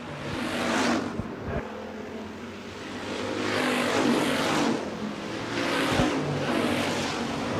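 Stock cars roar past at speed on the Shelby County Speedway oval during a late-race lap, with a steady broad engine drone that swells in repeated waves as cars pass, loud and continuous.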